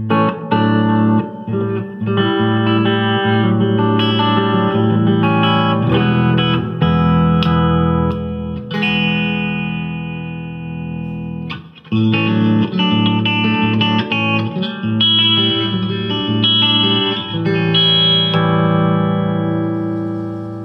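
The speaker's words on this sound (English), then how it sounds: "And it has reverb. We got some reverb on it." An electric guitar rings out sustained chords and notes through the guitar channel of a Gibson GSS100 amp with reverb on, played loud and continuous with a brief dip midway.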